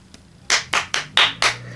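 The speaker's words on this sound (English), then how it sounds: "I'm giving this 5 out of 5 claps" Five sharp hand claps sound close and distinct in an even rhythm over a quiet background, with no talk.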